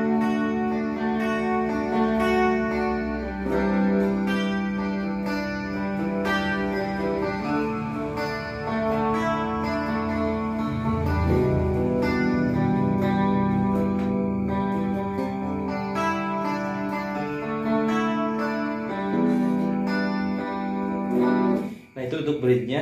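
An Ibanez JEM electric guitar plays through a clean effect setting on its bridge pickup, with a steady run of sustained chords and melodic notes at even volume and no talking.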